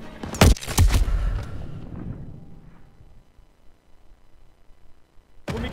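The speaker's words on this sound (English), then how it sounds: "They're shelling that beach to shit!" Artillery shells pound a beach in the Call of Duty WWII video game, with two loud booming blasts up front that roll off into a long, low rumbling decay, then another sharp impact at the end.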